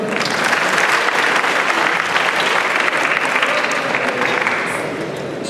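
A forum audience at a Malaysian Islamic talk event gives loud, dense applause that holds steady for several seconds before easing off slightly at the end.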